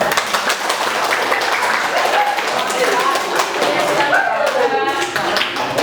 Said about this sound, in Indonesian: Yuk, biar semangat kita kasih tepuk tangan.